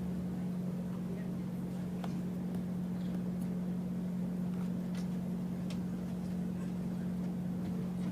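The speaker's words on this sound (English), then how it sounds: "So here we come on our boat" A tour boat's engine drones steadily while cruising near glaciers, a constant low hum with light wind and water wash over it, no pauses.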